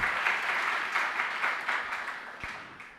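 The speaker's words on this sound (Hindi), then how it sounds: "और क्यों ताली बजा दी?" Audience clapping during a spiritual discourse, a sustained round that gradually fades toward the end.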